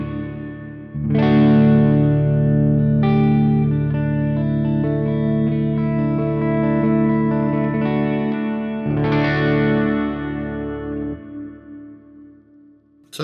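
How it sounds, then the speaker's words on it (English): Sustained electric guitar chords through a Flamma FX20 reverb pedal ring out with a lush, spacious reverb tail, struck a few times and left to decay slowly into a wash of sound. "Lovely, lush reverb."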